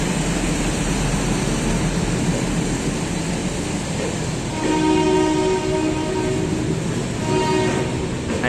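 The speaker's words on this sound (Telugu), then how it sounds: "ప్లాట్ఫామ్ నెంబర్ 1లో అయితే ఒక ట్రైన్ అయితే వస్తుంది." Accident relief train arriving at platform 1 of Kazipet railway station, a loud continuous rail rumble with a sustained tonal horn blast entering partway through and holding near the end.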